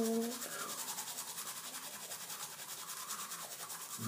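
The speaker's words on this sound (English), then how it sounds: "Brushing my teeth." Close toothbrush scrubbing on teeth, a steady rhythmic brushing rasp repeating several times a second, fairly faint and alone.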